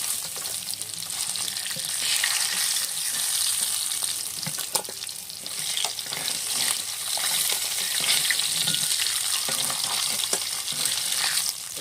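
Fish heads fry in oil with a loud, continuous sizzle and bubbling crackle. Utensil scrapes and occasional clinks come through as the pieces are moved about, and there is no talking.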